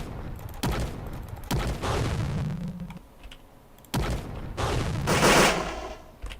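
Infantry gunfire in an indie video game: loud, close bursts of rapid shots fire in uneven, staggered volleys with short gaps between them, several clusters in a row and no speech.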